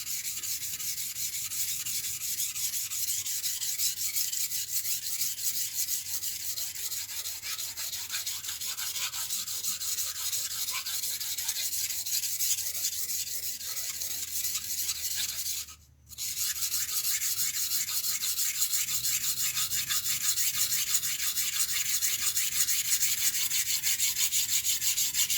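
A kitchen knife blade grinding steadily against bench whetstones, a continuous close abrasive rubbing that runs without pause apart from one brief break midway.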